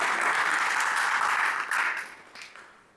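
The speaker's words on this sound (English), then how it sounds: "Can we have a round of applause for Bilal" An audience at an Islamic lecture breaks into applause, a dense steady wash of clapping that holds strongly before fading out over the last second.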